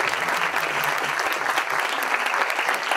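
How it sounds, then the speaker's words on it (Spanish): An audience at an international public accounting congress applauds steadily, a dense wash of clapping hands held at an even level for about three seconds with no talk over it. "Lo recibimos con un fuerte aplauso."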